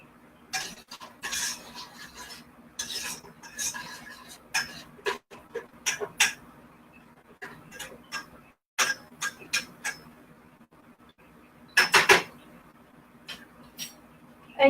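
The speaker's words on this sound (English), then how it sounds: "So let me give it another stir." A spoon stirs and scrapes a cooking pot, giving irregular clinks and taps against the metal, close and fairly quiet, with pauses between clusters of strokes over a faint steady hum.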